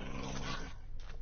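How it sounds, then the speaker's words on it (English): Dogs in the video game Minecraft growl and snarl as they fight, a dense, continuous rough noise with no talking over it. "let's see if we can get my dog to fight that dog."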